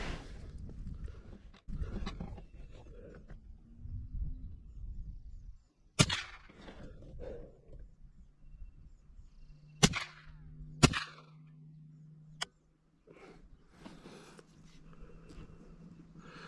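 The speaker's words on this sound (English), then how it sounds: "But we won't know till we fire some rounds downrange." A .22 LR rifle fired downrange at an outdoor range, several sharp, isolated cracks a few seconds apart, sounding fairly close over a steady low background murmur.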